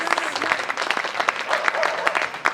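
Applause from an audience at a Hindi kavi sammelan poetry gathering, a dense burst of clapping lasting a couple of seconds, fairly close and steady, with some scattered crowd noise mixed in.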